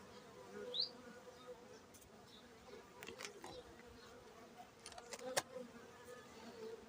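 Faint, steady buzzing of honey bees inside a hive fills the quiet background, with a few brief clicks and scrapes nearby.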